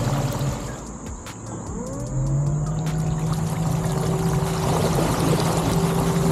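A Flipsky underwater electric thruster drives a paddle board, its motor whine rising in pitch as it speeds up over a wash of water and hull noise, loud and close throughout.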